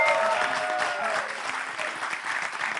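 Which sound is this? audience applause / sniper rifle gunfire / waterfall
audience applause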